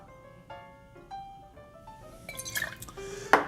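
Lemon juice is poured into a martini: a few light drips and small glassy plinks come first, then a brief, brighter splash of liquid near the end, all fairly quiet with no talking.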